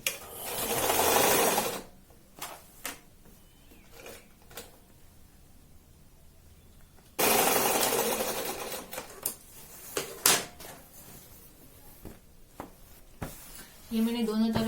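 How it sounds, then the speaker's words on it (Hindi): A sewing machine runs in two loud rapid bursts as it stitches the side seam of a kurti, with quiet handling clicks and rustles of fabric between them and a voice talking briefly near the end. "अब हमें इस साइड सिलाई लगानी है।"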